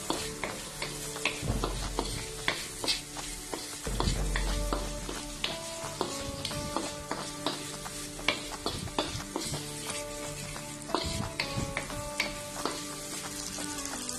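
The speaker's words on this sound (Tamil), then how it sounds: "தக்காளி பழத்தையும் இந்த வெங்காயம், பூண்டு, பச்சை மிளகாய், கறிவேப்பிலை, கடுகு, உளுத்தம் பருப்பு, வெந்தயம், பெருஞ்சீரகம் எல்லாத்தோடையும் சேர்த்து நல்லா வதக்கணும்." Tomato, onion, garlic, green chili and curry leaves with mustard seeds, urad dal, fenugreek and fennel are sautéed for a Jaffna-style drumstick curry, a steady close sizzle with repeated sharp scrapes and clatters of a spoon stirring the pan.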